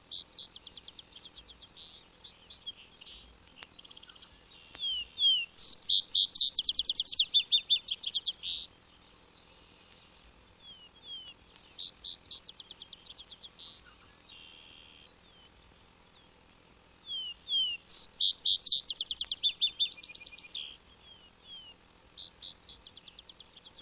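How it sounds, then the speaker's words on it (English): A vesper sparrow sings from a roadside along an old meadow, repeated bright phrases of whistles and rapid trills in bursts separated by pauses, clear and close with no other sounds. "vesper sparrow likewise sings from the roadsides along old meadows, especially in the evening when other birds are silent"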